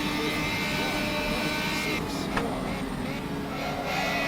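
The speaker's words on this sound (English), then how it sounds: "Third gear, get on the throttle." Racing car engine in a sim racing game at Lime Rock, droning steadily and loudly throughout as it pulls in third gear, with a brief sharp tick midway.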